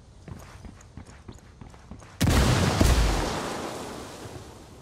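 A frag grenade exploding in a video game, a sudden loud deep blast after a run of footsteps and light clatter, followed by a long rumbling decay.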